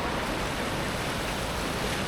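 Floodwater of the Yom River rushes under a bridge in Song District, Phrae, roaring in a steady, dense wash of noise, constant and loud without any break.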